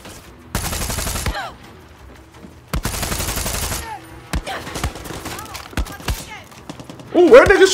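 Gunfire in the video game Far Cry 6 comes as long, loud automatic bursts and scattered sharp single shots, with a person talking in between.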